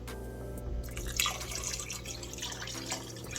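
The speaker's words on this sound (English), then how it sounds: "Now we'll add our beef broth now." Beef broth pours into a soup pot, a steady liquid splash and trickle close by with a low kitchen hum underneath and no talking.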